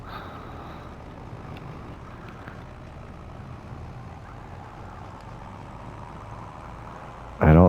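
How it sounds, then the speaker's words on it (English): Tractor engine in Farming Simulator 25 labouring under a heavy load, a steady low rumbling drone throughout with no talk, then a sudden loud burst at the very end. "I don't think the tractor likes this weight."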